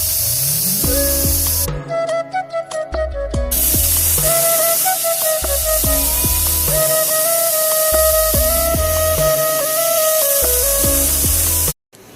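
A pressure cooker whistles repeatedly while cooking potatoes, its loud steady hiss of escaping steam rising and falling in several bursts that each hold for a few seconds, alone with no voices.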